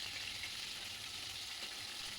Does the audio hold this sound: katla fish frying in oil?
yes